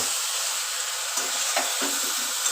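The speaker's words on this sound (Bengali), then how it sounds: "লাউ কষাতে কষাতে লাউয়ের গা দিয়ে জল ছেড়ে আসে সুন্দর" Bottle gourd (lau) curry stir-fries in a pan, letting off its own water, with a steady close hiss of sizzling and a few soft stirring scrapes across a short stretch.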